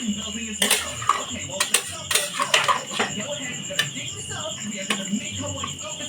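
Washed chicken pieces are stirred and turned in a bowl, making irregular clinks, knocks and wet scraping at close range, with faint background noise and no clear talk.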